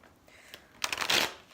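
A deck of tarot cards being shuffled close by during a reading, a soft faint flick early on, then a louder riffling rush of cards that swells and fades within about a second.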